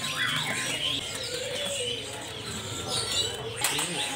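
Caged birds chirp and call at the Pramuka bird market, bright song layered over a busy background with people talking nearby.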